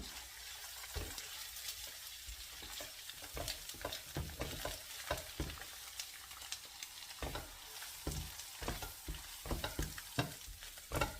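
Salted egg scrambled in a hot pan, a faint continuous sizzle broken by repeated scraping and stirring strokes, with no talk.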